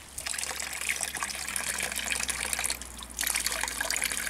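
Non-potable water runs steadily from a public street fountain, a continuous splashing gush that is moderately loud and close, with no voices over it.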